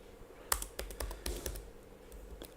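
Keys clatter on a computer keyboard as HTML code is entered, a run of quick close taps with brief pauses between bursts, no voices.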